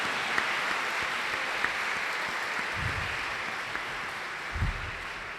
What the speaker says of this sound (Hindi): तो सबसे पहले आपकी जोरदार तालियों में आप सबको आज की बहुत बहुत मुबारक हो। जोरदार तालियों में।